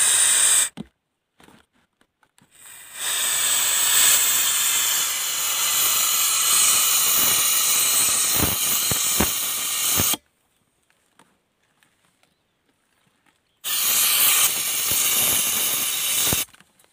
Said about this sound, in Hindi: तो मैं इसके अंदर डाल रहा हूँ LPG गैस।